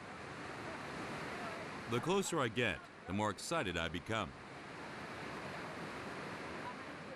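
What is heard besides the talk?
waterfall at Bantimurung national park, Sulawesi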